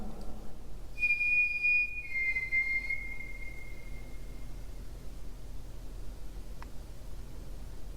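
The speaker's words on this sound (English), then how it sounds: "Are you able to copy me if I whistle?" A person whistles a short steady tone followed by a slightly lower sliding note, alone in a quiet room with faint background hiss.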